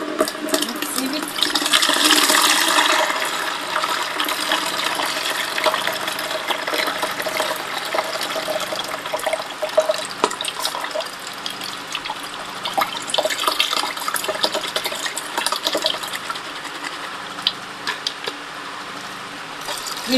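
Water pours and splashes as homemade juice is strained through a sieve in a village, a loud gushing start settling into steady trickling and dripping with small clinks, close by.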